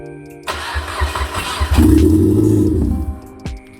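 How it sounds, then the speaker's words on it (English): A starter motor cranks for about a second before a Mitsubishi Lancer GTE's turbocharged 4B11 engine catches and settles into a rough, loud idle nearby, then cuts off. "So far engine can start"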